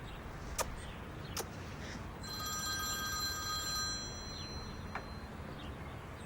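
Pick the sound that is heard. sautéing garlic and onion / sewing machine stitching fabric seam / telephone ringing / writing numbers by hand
telephone ringing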